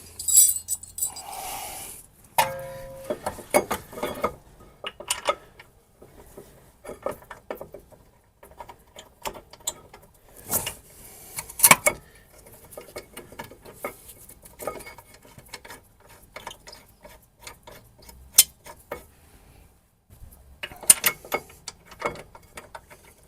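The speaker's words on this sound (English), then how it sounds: "See if I can torque these up" Ratcheting clicks and metallic clinks of a torque wrench tightening the caliper carrier bolts on the rear brakes of a VW Crafter or Mercedes Sprinter camper van, heard in scattered bursts at close range with quiet gaps between them.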